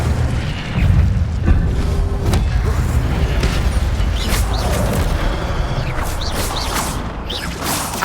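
Incendio fire spell cast repeatedly during combat in Hogwarts Legacy, a loud crackling burst with booming low rumble over continuous battle noise, followed by whooshing magical hits and sharp swishes.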